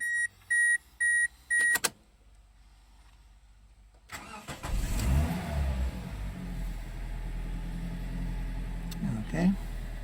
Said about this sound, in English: And let's start the engine.